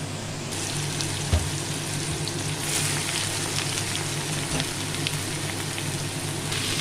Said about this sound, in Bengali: তেলে পেঁয়াজ, উচ্ছে আর বেগুন কেটে নিলাম, কেটে তেলে দিয়ে দেব